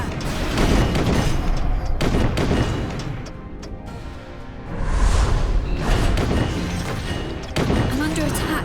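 Soldiers fire repeated volleys in the strategy video game The DioField Chronicle, with loud booming shots and whooshing bursts landing in several waves under shouted commands.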